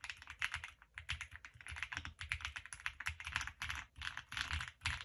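Rapid, steady typing on an 80% hot-swappable, gasket-mounted aluminum mechanical keyboard, close and crisp with dense clicky keystrokes in quick bursts, heard alone without talking.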